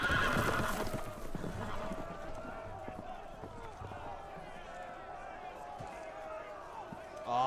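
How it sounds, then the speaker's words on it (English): Loose horses whinny and clatter faintly in the Game of Thrones Telltale video game, with hooves scuffling under voices talking over the scene. "The horses! They're loose!"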